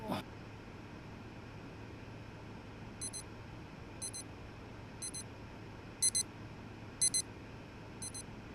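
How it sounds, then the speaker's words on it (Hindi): A heartbeat warning alarm goes off from a device in a Korean drama scene, with short high-pitched double beeps repeating about once a second over a quiet room background. "मेरी हार्ट बीट का वार्निंग सिग्नल दे रही थी।"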